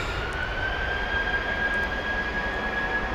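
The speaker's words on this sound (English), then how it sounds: "Powering those engines up." Airliner jet engines power up on a runway at Manchester Airport, a steady broadband roar with a thin whine rising in pitch, heard from a distance and sustained throughout.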